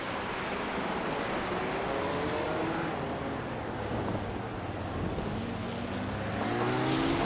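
A Ferrari GT3 race car drones on a wet Circuit of the Americas in a racing game, its engine note rising and falling under a constant hiss of spray.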